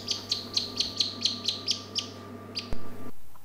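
A newly hatched kaki (black stilt) chick in a hatchery peeps in a regular series of about ten sharp, high chirps, close and clear over a low steady hum, followed by a short thump.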